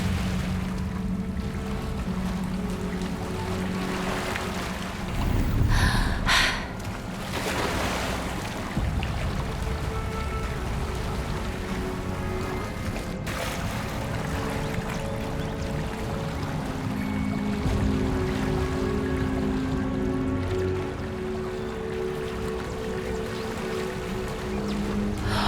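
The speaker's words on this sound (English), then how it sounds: "Look, where the water's bubbling." Water bubbling and churning in a Hogwarts Legacy game scene, a steady wash of gurgling flow, near and moderately loud, with brief splashy surges and occasional low booms from the surrounding game ambience.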